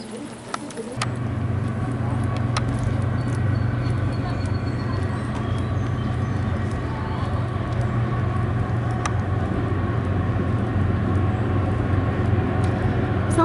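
A train crosses the Kiski Railroad Bridge, giving a continuous heavy rumble with a low steady drone and occasional clanks, heard up close from the bridge throughout.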